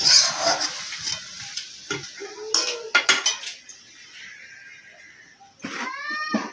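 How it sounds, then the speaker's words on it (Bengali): Catla fish head and banana flower being stirred in hot oil, a metal spatula clattering and scraping against a pan in irregular bursts, with soft sizzling frying underneath. "নাড়ি চাড়িয়ে নিচ্ছি, নামানোর আগে দিয়ে দেবো একটু গরম মশলা।"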